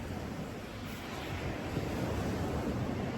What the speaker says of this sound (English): There is a bit of a wind, but it's not anything too major.